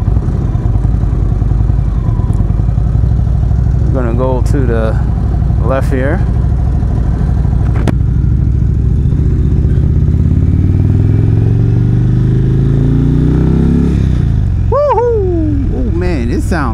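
An Indian Springfield Darkhorse motorcycle engine hums low and steady while riding, loud and constant underneath, with a rider talking over it and the revs rising toward the end.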